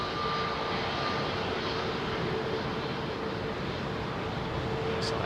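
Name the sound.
Emirates airliner taxiing at Heathrow Airport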